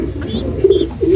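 Pigeons cooing close by in a couple of soft, throaty low coos within a brief moment.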